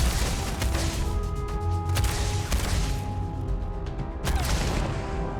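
Gunfire in the space video game Starfield, loud sharp shots and booming impacts at irregular intervals over a dense combat din, with no talking.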